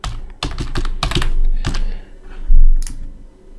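Keys clatter on a computer keyboard as a page name is typed, quick bursts of sharp clicks in uneven clusters with short pauses between, close and clear with no talking.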